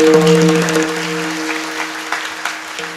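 Short burst of audience clapping at a comedic kirtan, scattered hands fading quickly beneath a lingering harmonium-like drone, with a few isolated claps trailing off.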